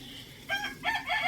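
Chickens in a backyard pen with a tiled wall about 1.2 metres high give a short, fairly loud run of clucking and crowing calls close by.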